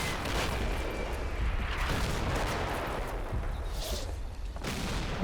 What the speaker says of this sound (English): more mortars, excellent